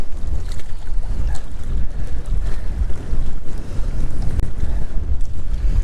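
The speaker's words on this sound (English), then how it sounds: "Look at how hard that wind is blowing right now." Strong wind gusts steadily across a lake during winter bass fishing, a continuous low rumbling buffet against the microphone with shifting gusts and no talk.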